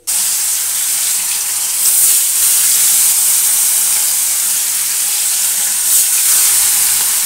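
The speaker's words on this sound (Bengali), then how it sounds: "তো এখন মাছগুলো ভেজে ফেলি।" Fish rubbed with salt and turmeric frying in hot oil, a loud, close, continuous sizzle with brief surges of crackle, heard alone without talk.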